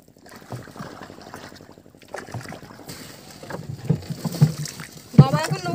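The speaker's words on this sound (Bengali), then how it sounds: "নৌকা এতক্ষণ বন্ধ ছিল, এক জায়গায় স্থির ছিল, এবার বেয়ে নিয়ে চলেছি।" A small fishing boat is rowed along a river, with uneven splashing and knocking strokes that grow louder toward the end, while people talk nearby and wind brushes the microphone.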